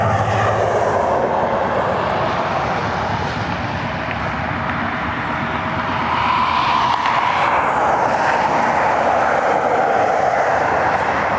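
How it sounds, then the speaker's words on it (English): A Frontier Airbus A321neo lines up on the runway at Cleveland Hopkins airport, its jet engines producing a steady, loud broadband roar that swells slightly toward the end, with no talk. "Frontier taking the runway now"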